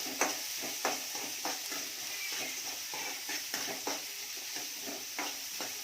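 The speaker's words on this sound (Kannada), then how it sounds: "ಈರುಳ್ಳಿ, ಚೆನ್ನಾಗಿ ಬ್ರೌನ್ ಕಲರ್ ಬರೋವರೆಗೂ ರೋಸ್ಟ್ ಮಾಡಿ." Onions roasting in a pan with curry leaves for masala paddu: a steady hiss of sizzling oil broken by regular scraping stir strokes and light pan knocks, close up, with no one speaking.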